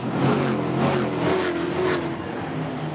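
V8 Ute race cars roar around the track at Sydney, engines revving and rumbling loudly and continuously as they pass close by.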